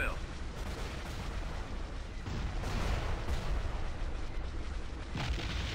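Star Wars X-wing laser fire crackles through a space battle in a video game, a dense continuous barrage of blasts and booms that swells and falls for several seconds, with no voices.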